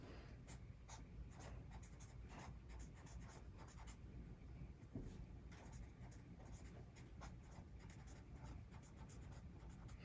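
Handwriting with a pen on paper, soft scratchy strokes repeating steadily throughout, close and quiet with faint breathing in the background.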